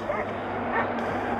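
A dog on a mountainside prone to avalanches gives a few quick yipping barks, brief and fairly faint against a steady windy background.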